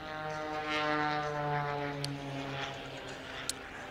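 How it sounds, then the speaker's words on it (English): Oracle aerobatic propeller airplane performing at the 2012 Seafair Boeing air show, a steady droning engine and propeller tone that swells slightly while passing, with a couple of brief clicks. "This is a one-of-a-kind aircraft that you see Sean flying"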